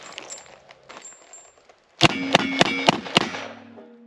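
Five rapid fanned shots from a 45 Colt revolver with 230 grain full-power smokeless loads, loud sharp cracks about a third of a second apart with ringing tails, after quieter handling noises.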